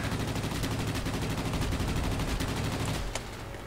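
Rapid machine gun fire from aircraft in the World of Warplanes video game, a dense, loud, continuous burst of shots that runs for about three seconds and then cuts to a quieter fading tail.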